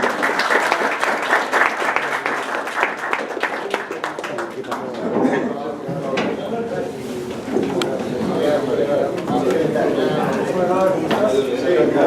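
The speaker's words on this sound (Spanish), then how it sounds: "Un fuerte aplauso." Hearty audience applause at a book presentation in a bookshop, loud dense clapping that thins into scattered claps with voices chattering underneath.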